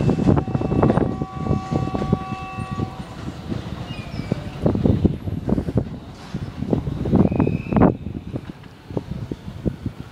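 A train pulls in at Kintetsu Yamato-Saidaiji station, a steady low rumble with wheel and rail clatter and a brief high squeal, heard from the platform amid wind buffeting the microphone.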